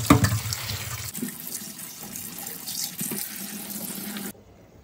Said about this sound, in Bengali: প্রথমে আমি পালং শাকটাকে ভালো করে ধুয়ে নেব, জল দিয়ে বেশ খানিকক্ষণ ধুয়ে নেব।